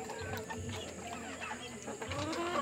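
Backyard free-range hens of Sussex, Rhode Island Red and Black Australorp breeds cluck softly in a low, scattered chorus over steady background noise, with a few sharper calls near the end.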